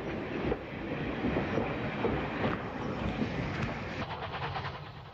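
A Southern Pacific steam locomotive getting its train underway, heard as a steady, dense rumble of rolling stock with faint rhythmic clatter running throughout.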